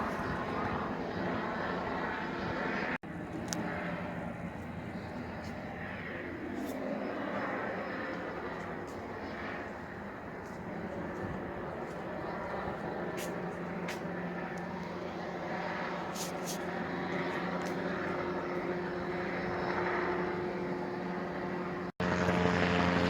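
A drone circles overhead outdoors, its buzzing propeller drone holding steady and droning continuously for the whole stretch, moderately loud with faint intermittent clicks and no speech.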